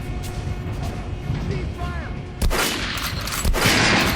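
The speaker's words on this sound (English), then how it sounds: "Shoot the armored dummy" Gunshots in Metro: Last Light strike an armored training dummy, with two loud sharp reports near 2.4 and 3.5 seconds ringing over a busy game soundscape.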